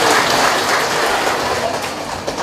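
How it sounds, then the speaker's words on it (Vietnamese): Audience applause at a Buddhist celebration honouring a venerable monk, a dense steady clatter of many hands that fills the clip and tapers slightly at the end, with no speech over it. "Xin đại chúng cho một tràng vỗ tay để chúc mừng hòa thượng Thanh Sơn"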